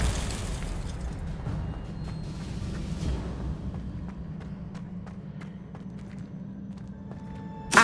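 A Confringo blasting spell in Hogwarts Legacy bursts with a loud explosive boom at the start, its rumbling roar decaying over several seconds into scattered crackles and small pops, ending with a sharp hit.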